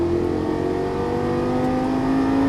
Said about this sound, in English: And accelerate all the way down that straightaway, all the way up to the orange cones.